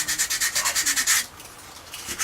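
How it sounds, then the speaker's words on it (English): Sandpaper rubbed back and forth over a plastic part of a Revell USS Voyager model kit, a quick run of about ten close, even rasping strokes, then a pause and a few more strokes. "I'm just going to take some sandpaper and just sand it down."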